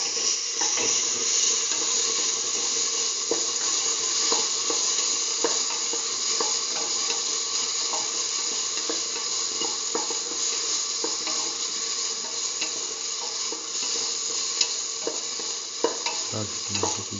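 Salt and tomato pieces are stirred into a split mung bean and eggplant stew mixture in a pan, a long, steady sizzle with repeated scraping stir strokes up close.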